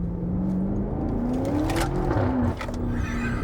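A BMW F90 M5 Competition accelerates with its wheels spinning, a loud close engine drone rising steadily in pitch, then dropping off as the throttle eases near the end.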